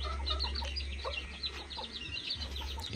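Chickens cluck and chirp in short, overlapping bursts close by, over a constant low hum.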